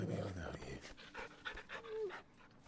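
A dog being petted in the video game Final Fantasy XVI pants in quick, breathy bursts, heard close up while voices murmur.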